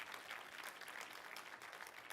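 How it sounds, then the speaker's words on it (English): A live audience at the Ballston LaunchPad finale applauds in a dense, steady wash of clapping that holds at an even level throughout, with no breaks or voices standing out. "you all deserve a big round of applause"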